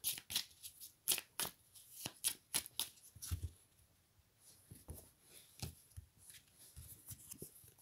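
Tarot or oracle cards being shuffled by hand, a series of quick crisp riffles and flicks, close and fairly quiet, with softer shuffling and taps trailing off afterward; no speech.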